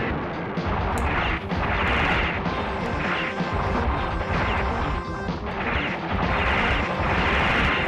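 Heavy machine gun fire in the arcade game Metal Slug X, loud rapid crashing bursts with explosive thuds in quick, repeating pulses, dense and continuous throughout.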